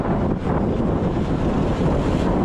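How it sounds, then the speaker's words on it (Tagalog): Loud, constant wind rumble batters the microphone on a road ride near Tagaytay, Philippines, a thick unbroken rush throughout. "Lakas ng hangin."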